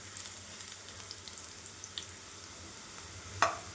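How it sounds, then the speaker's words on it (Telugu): Sliced bitter gourd rings frying in hot oil, a faint steady sizzle with soft scattered pops and one sharper crackle near the end, no talking. "ఇట్లా చక్రాల్లా కోసి కడిగి ఆయిల్ కాగనిచ్చి డైరెక్ట్గా వేసేస్తాను"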